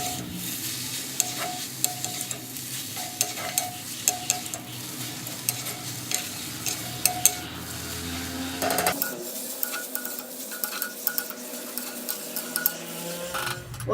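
Raw mango sautéing in a pan, a soft continuous sizzle with repeated spatula scrapes and clinks against the pan, close by and without talk.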